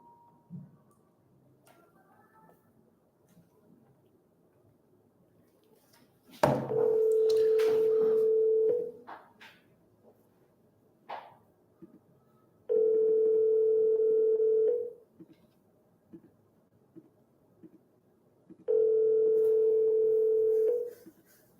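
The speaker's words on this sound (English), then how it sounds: "Let's call this guy." A telephone call placed to a seller, with a short clatter as dialing begins, then three long steady ringback tones separated by pauses of near silence, heard clearly through the handset.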